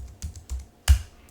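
Keys on a computer keyboard are pressed in a short run of separate clicks, about four distinct taps close up against a quiet background, entering commands in a Linux terminal.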